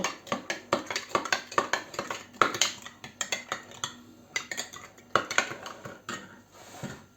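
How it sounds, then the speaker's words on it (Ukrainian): A spoon clinks and scrapes against a bowl while sour milk is stirred with a tablespoon of sugar, giving quick, irregular metallic taps and scrapes that stay close and clear with no voice. "І розмішуємо тут"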